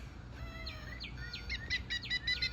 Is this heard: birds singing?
yes